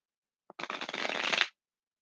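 Tarot cards being shuffled, a single short riffle of crisp papery flutter lasting about a second after a tiny tap, close and clear in a quiet room.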